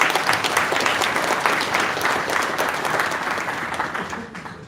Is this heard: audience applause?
yes